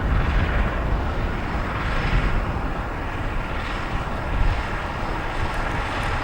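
A jet airliner climbs away on takeoff at O'Hare International Airport in Chicago, its engines giving a loud, steady broadband roar that holds for the whole stretch with a slight swell midway.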